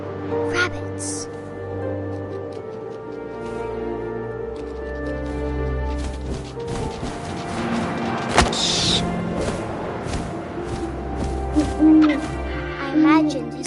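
Owl hooting in the video game What Remains of Edith Finch, with repeated tonal hoots over a steady ambient background of wind and game sounds, close and fairly loud.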